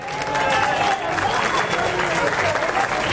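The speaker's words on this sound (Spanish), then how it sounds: "¡Un aplauso!" A crowd at a Virgen del Carmen festival in Llastres breaks into steady, close clapping mixed with some cheering, with voices talking over the applause.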